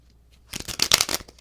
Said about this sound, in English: And I will shuffle these cards,